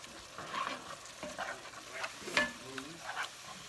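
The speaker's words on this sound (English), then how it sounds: "Give that a little stir." Chili with beans and tomatoes gets stirred in a pot, giving soft scraping and gentle sizzling strokes in an uneven rhythm, faint and close, with a brief sharp clink partway through.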